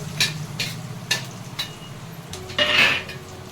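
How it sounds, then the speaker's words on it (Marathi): Chopped onions and chillies fry in a pan while a spatula stirs them, scraping and clinking against the metal over a close, crackling sizzle. "आता कांद्याला फिरवून देऊन घेते"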